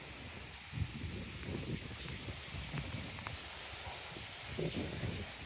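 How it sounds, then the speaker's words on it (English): Steady autumn wind with fallen leaves rustling and gusting in irregular bursts, close to the microphone, no voices. "Look at this wind, guys. It's so windy."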